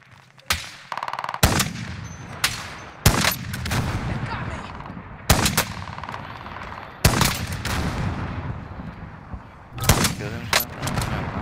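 Gunfire rings out in a video game shootout, with repeated loud bursts and sharp shots arriving in clusters over a constant background rumble.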